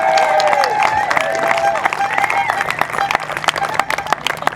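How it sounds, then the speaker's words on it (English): Crowd at a TPPA protest rally in Christchurch breaks into loud applause and cheering, dense clapping filling the space with voices shouting over it. "Let's give ourselves a huge round of applause"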